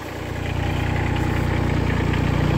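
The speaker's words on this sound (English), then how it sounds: "This is has a diesel engine." The diesel engine of a Ditch Witch SK600 compact loader runs at a steady idle nearby, a loud continuous rumble with a faint knocking pulse and no talk over it.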